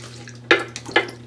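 Water sucked out of a household plumbing pipe with a small cup or shop towel during a water hammer arrestor fix, two short close gurgling slurps over a steady low hum.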